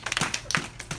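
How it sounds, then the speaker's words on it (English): A handful of claps and taps ring out for Nathan Hale, a small audience applauding in short, uneven bursts, close and fairly light. "How about a big round of applause for"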